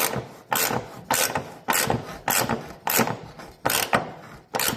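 A ratchet wrench tightens the bolts of a LilliPad Marine beach ladder mount, giving eight sharp, evenly spaced bursts of clicking, each a quick ratcheting stroke followed by a brief pause, close and loud with no talk.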